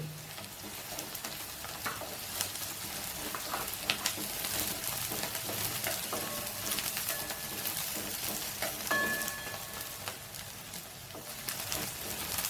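A slice of ginger fries in oil in a pan for rava kichadi, a steady close sizzle with occasional stirring scrapes and faint birdsong in the background.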